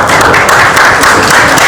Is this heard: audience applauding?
yes